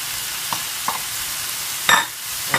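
Eggs cracked into a small cleared space at the back of a pan of fried rice, giving a few soft sizzling bursts and a light scrape, with quiet gaps between them and no talking.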